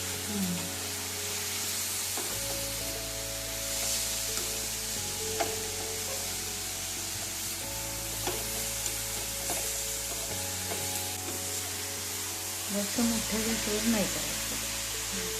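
A sweet jaggery and coconut filling sizzles steadily in a pan over a medium-low gas flame, with repeated scraping stirs at regular intervals and a faint constant hum underneath.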